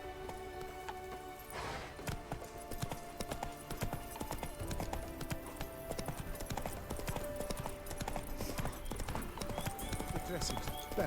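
Roach, the horse in The Witcher 3: Blood and Wine, galloping with rapid rhythmic hoofbeats that continue throughout, close and steady, with game music and voices talking over them.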